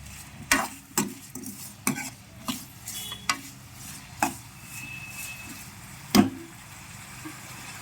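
Tomato chutney cooking in a pan is stirred, with a string of sharp spoon knocks against the pan over a soft low simmer, fairly quiet and close.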